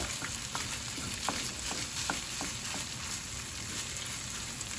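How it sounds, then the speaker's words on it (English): Corned beef hash frying in a pan at home, a steady close sizzle and crackle of browning meat and potatoes that runs throughout with a few sharper pops. "let this cook a little bit till it starts getting a little bit darker"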